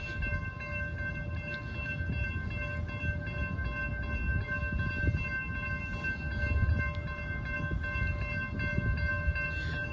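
A southbound Union Pacific mixed freight train passes at a grade crossing in Austin, Texas, a steady loud rumble of rolling cars with sustained horn tones layered over it, with no one speaking.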